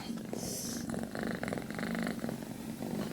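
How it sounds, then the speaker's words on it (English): A cat purring close by, a soft steady rumbling purr that rises and falls with each breath, fairly quiet and heard on its own. "and that's the cat."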